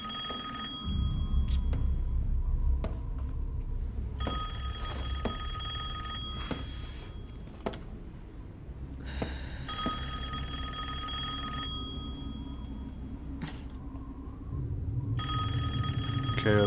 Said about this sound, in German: Hey, dein Telefon klingelt.